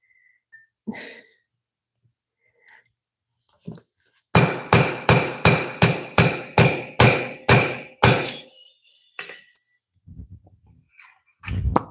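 A hammer striking a steel punch into a hard grade of steel: about nine sharp, evenly spaced metallic blows in quick succession, loud and close, followed by a burst of clattering impacts and a few scattered knocks in a quiet workshop.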